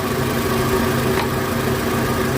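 A 2012 Toyota RAV4 with a low oil pressure warning and heavy oil consumption runs at a steady idle, a constant, even engine drone heard close and fairly loud with no other sounds.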